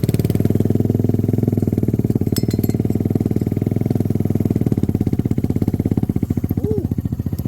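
A motorcycle engine runs steadily at a rough, low idle, its rapid pulsing thump close and loud throughout, with a brief faint voice near the end.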